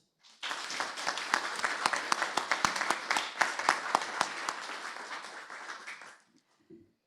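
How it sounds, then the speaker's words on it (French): A room of municipal council members breaks into steady applause, many hands clapping together for about six seconds at a moderate distance before it tapers off abruptly, followed by a faint brief sound. "je vous propose aussi de les élire par acclamation"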